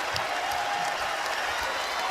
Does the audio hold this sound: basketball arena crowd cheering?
yes